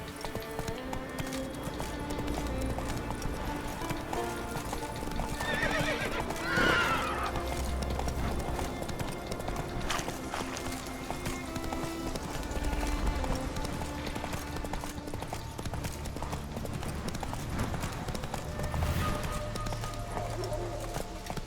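A horse in The Witcher 3 gallops with steady rhythmic hoofbeats and gives a clear whinny partway through, over soft ambient game sound with no voices.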